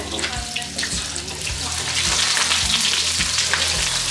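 Large pieces of onion fry in a hotpot pan, a steady sizzle that swells louder midway, with faint thumps and a running-water hiss underneath.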